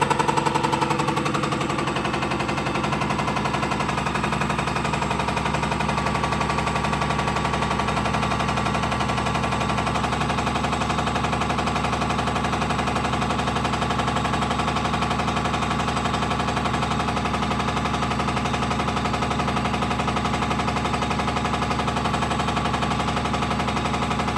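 Motorcycle fuel injectors from a Rooster build fire rapidly on a dyno test rig, making a loud, continuous mechanical buzzing rattle that holds steady throughout with no pauses.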